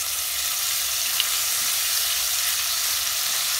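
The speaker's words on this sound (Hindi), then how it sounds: "लो फ्लेम में मसाला को कुछ सेकंड्स भूनने के बाद हम इसमें दे देते हैं 1 टेबलस्पून जैसे अदरक और लहसुन के पेस्ट।" Masala and ginger-garlic paste frying in a pan over a low flame for a Kashmiri dum aloo, a steady, close, even sizzle throughout with no talking.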